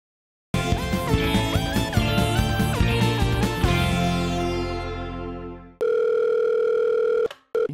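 Telephone tones while placing a call: a run of shifting electronic beeps and pitched tones, then a steady ringing tone that stops abruptly, followed by a short burst.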